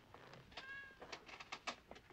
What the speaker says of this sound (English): That is the cutest cat, besides Mochi, that I've ever seen.